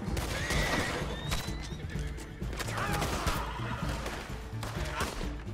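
An American Paint horse in the Red Dead Redemption video game lets out loud, repeated whinnies and neighs, close and prominent over hoofbeat clatter and game ambience, with no talking.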